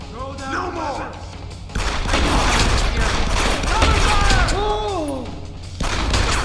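Gunfire in the Deus Ex Human Revolution video game, loud dense bursts of automatic shots and thuds from the game audio, while someone talks excitedly over it.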